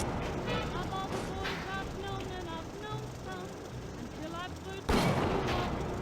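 Enemy gunfire in the video game Bioshock, scattered shots and bursts over a steady background din, ending with a louder blast, while someone talks throughout.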